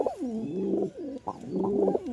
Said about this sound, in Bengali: এই হচ্ছে কবুতর, নর কবুতর এটা